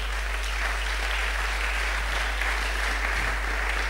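A church congregation applauding steadily during a French-language sermon on faith, a dense, continuous wash of clapping from a large crowd filling the space throughout.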